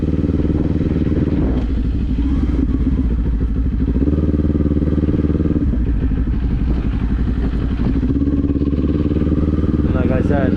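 A motorcycle ridden through town toward a main road, its engine droning loud and close with steady rumbling tones that rise and dip as the rider shifts through the gears, occasional clatter and thumps mixed in.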